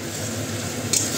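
Onions fry for moong dal in a pan, a short steady sizzle heard up close with a brief scrape of a utensil near the end.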